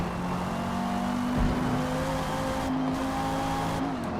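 Race car engines droning in a Forza racing game, a sustained steady engine tone that shifts pitch briefly, with no talk over it.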